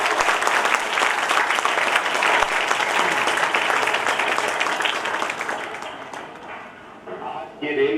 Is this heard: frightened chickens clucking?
no